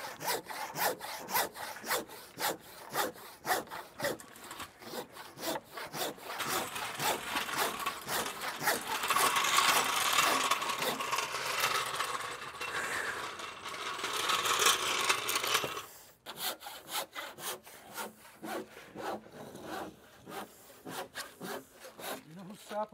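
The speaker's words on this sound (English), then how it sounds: "Pretty good for a trim saw, huh?" A hand trim saw cuts through wood for a new keel on a classic wooden sloop, rasping in rapid, rhythmic back-and-forth strokes that stop briefly and then resume more quietly.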